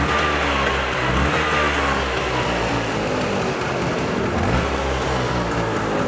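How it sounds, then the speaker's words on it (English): A 1978 Vespa P200E scooter engine idles steadily nearby, a continuous low, even putter with slight rises in pitch, running on its own without voices. "It's idling perfect"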